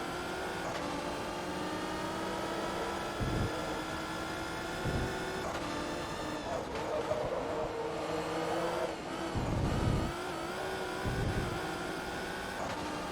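Race car engines whine and rev in Forza Motorsport 2 during a Japanese GT championship race with a Honda NSX in the pack, a steady layered drone with a few low thumps and shifts, no talking.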